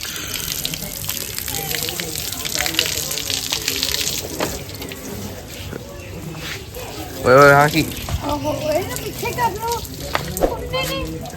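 Water runs and splashes steadily for washing a car, with voices talking over the flow throughout.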